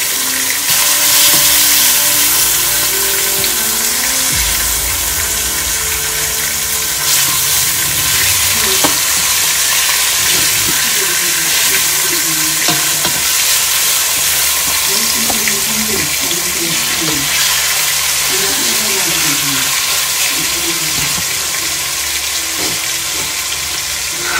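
Skin-side-down chicken thighs sear in a pot for gumbo, making a loud, dense, steady sizzle that runs without pause, with faint background voices and occasional clinks underneath.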